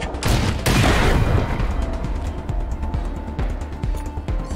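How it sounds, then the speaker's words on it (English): A rocket launcher fires in a Wasteland 3 battle, a loud opening blast with a sharp crack followed by a rumbling tail of smaller detonation-like bursts that fade unevenly. "You can switch to the rocket launcher and do a nice chunk of damage"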